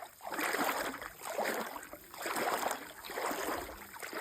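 A person wades into the cold White Sea from a sandy beach, with rhythmic swishes and splashes of water around the legs coming in regular surges, close and moderately loud, without talking.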